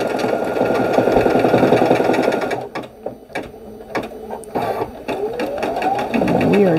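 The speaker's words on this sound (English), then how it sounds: "And this machine does not cut the jump stitches, so I do have to go back and cut those." An embroidery machine stitching a design in a sticky hoop runs with a fast, steady mechanical chatter, then breaks into spaced clacks and short bursts of stitching before resuming its close, loud whirring rhythm.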